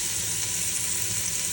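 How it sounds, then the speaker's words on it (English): Steady, bright sizzle of butter frying in a hot pan, continuous and close, with no talking. "once your butter is melted and sizzling"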